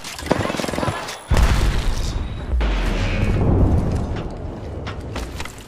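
A grenade blast booms in Apex Legends gameplay, a loud low burst with a long rumbling tail after a sharp earlier hit, with gunfire-like crackle around it.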